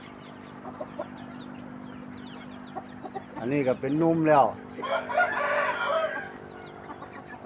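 Backyard chickens cluck softly in a steady background while a rooster gives one loud, close crow. Someone speaks over the farmyard noise afterward.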